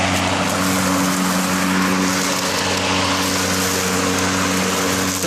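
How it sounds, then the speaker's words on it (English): Greenworks 40V 19-inch cordless electric lawn mower cutting grass, a steady, fairly loud motor whir with constant broadband hiss and a low hum, running continuously without pause. "So right now it should be cutting grass, and there it goes."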